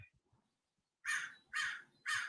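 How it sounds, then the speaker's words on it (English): Crows give three loud, harsh caws in an even rhythm about half a second apart, close and clear after a brief near-silent lead-in. "right now the crows are speaking very loudly"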